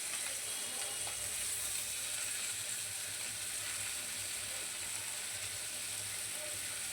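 Pomfret fish frying in oil in a pan gives a steady, even sizzle that holds throughout, with faint kitchen clatter underneath.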